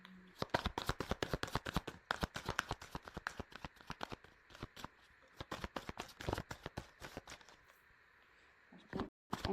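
Tarot cards being shuffled by hand, a rapid run of crisp riffling flicks and slaps that carries on steadily for most of the stretch, close and fairly loud, then stops briefly near the end.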